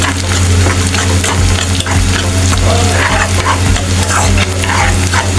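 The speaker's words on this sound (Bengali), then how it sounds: "সব আমি দিয়ে আবার একটু ভালো করে ভাজা ভাজা করে নেব।" Whole spices such as bay leaf, cardamom and garam masala frying in a pan for duck curry, a loud, dense, continuous crackling sizzle close to the microphone with stirring throughout and no talking.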